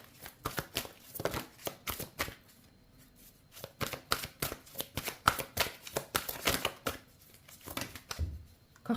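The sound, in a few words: tarot cards being shuffled and drawn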